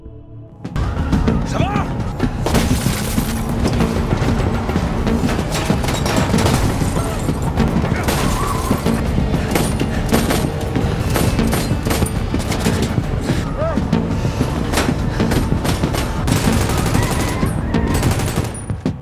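Gunfire in a movie car chase: dense, rapid bursts of shots and sharp cracks pile up over roaring engine and crash effects, relentless and loud for the whole stretch.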